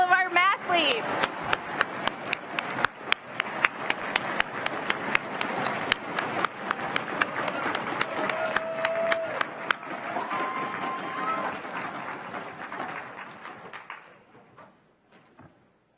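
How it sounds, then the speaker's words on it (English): A crowd claps for student mathletes at a national math competition, a broad clatter with sharp individual claps standing out, a couple of brief tones over it, before the clapping thins and dies away near the end. "Let's have a round of applause for all of our mathletes"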